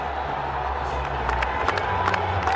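Cricket crowd cheering a six at a live match, a dense roar of many voices with scattered claps and shouts, swelling slightly toward the end.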